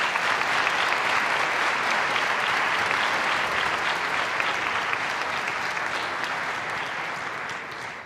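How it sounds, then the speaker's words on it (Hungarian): Steady, dense applause from a gala audience in Szeged welcoming an honored guest, loud and sustained throughout before easing slightly toward the end. "Kérem, köszöntsék őt nagy tapsal."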